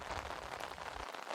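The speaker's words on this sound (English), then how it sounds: "It's a rainy morning." Rain falls steadily on a surface on a rainy morning, a dense, even hiss of drops that stays close and fairly faint throughout with no voices.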